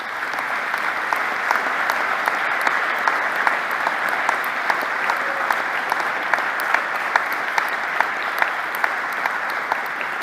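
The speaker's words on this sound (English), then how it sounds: "I hope you could hear the applause and the standing ovations for your statement here" A conference audience gives sustained applause and a standing ovation after a speech on EU crises, a loud, dense wash of clapping with crisp individual hand claps popping through steadily for about ten seconds.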